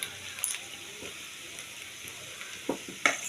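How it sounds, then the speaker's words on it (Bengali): Potatoes pricked with holes fry in a pan for a potato-and-pea curry, giving a steady, quiet sizzle with a few sharp clinks and scrapes near the end. "আলুগুলো প্রায় ভাজা ভাজা হয়ে গেছে"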